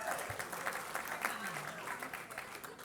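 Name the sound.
applause from audience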